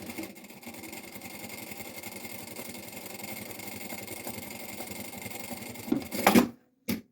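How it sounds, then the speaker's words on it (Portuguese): A sewing machine stitches fabric right sides together for a passport holder, its needle running in a fast, steady close-up chatter for about six seconds before a brief clunk and a stop. "E agora vou costurar direito com direito e vou passar em cima deste risco."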